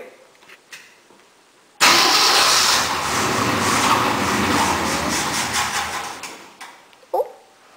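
A 1965 Mercury car engine cranks, catches and runs loud and close for about four seconds, then sputters out and stalls; a brief faint noise follows.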